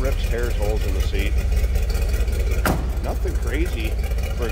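A 1986 Ford F-150 pickup's side-exit exhaust rumbles low and steady at idle while someone talks over it nearby.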